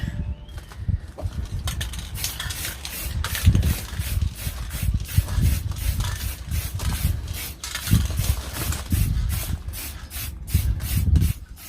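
Aerosol spray paint can applying a third coat to an SCX10 RC car body, a series of short hissing bursts in an irregular rhythm, close up, with rubbing and handling noises between sprays.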